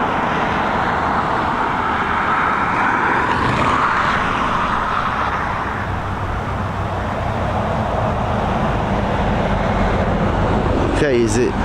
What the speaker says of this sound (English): here is that 737 MAX on its way in from Manchester